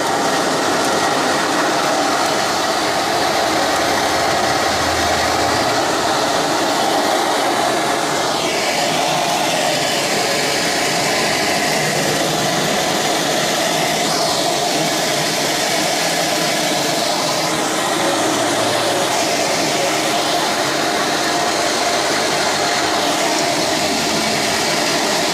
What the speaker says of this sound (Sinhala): මෙන්න මේ විදිහට අරගෙන මැෂින් එකට දාලා ඉවරලා අපි වී කොටලා පෙන්නනවා